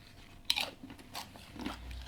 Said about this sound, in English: Like these nachos, I'm addicted to them. I like that crunch